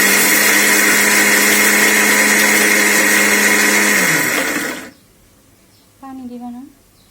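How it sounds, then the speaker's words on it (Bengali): An electric kitchen blender grinds spices for biryani with a loud, steady whir that winds down and stops, followed by a short spoken phrase in the quiet. "আমি এগুলাকে এখন ব্লেন্ডার করে নেব।"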